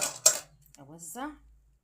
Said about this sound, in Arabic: اهز الصينيه كده اهو عشان كله يعشق ايه في بعضه